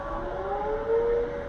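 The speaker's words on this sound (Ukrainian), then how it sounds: "Чуєте повітряну тривогу?" A distant air raid siren wails steadily in the background, its tone slowly rising and falling over a low ambient hum.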